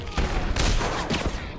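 Enemy gunfire in the video game Batman Arkham City, rapid bursts of shots in quick succession, fairly faint and compressed, lasting about a second and a half.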